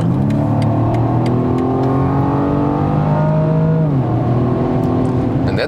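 A 2020 BMW M135i accelerates hard from 80 km/h, its engine note climbing steadily and loudly through the revs inside the cabin, with a brief dip at a gear change before rising again.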